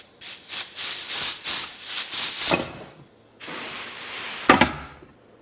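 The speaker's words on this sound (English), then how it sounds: "I'll just blow some compressed air into them." Compressed air blasted into the pistons of a rear brake caliper off an E46 330ci, a string of loud close hissing bursts, then one long sustained blast that cuts off sharply.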